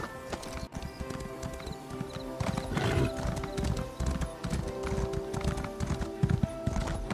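Horse hooves clip-clop steadily in Elder Scrolls Online, a continuous rhythmic trot layered over in-game ambience and music, with a brief whinny partway through.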